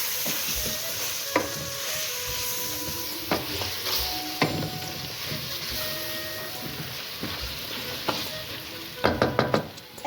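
Spices with green cardamom, bay leaves and a pinch of turmeric sizzle while being stirred and fried in a pot for Peshawari namkeen gosht, a steady close hiss broken by scraping spoon knocks and a burst of clatter near the end.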